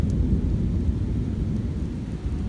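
A severe thunderstorm rumbles with heavy, continuous low thunder, close and loud, blended with a dense wash of falling rain.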